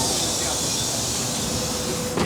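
A metro train at Shuliavska station in Kyiv, with a loud continuous rumble and rolling rail noise filling the platform, ending in a sudden clunk or shift near the close.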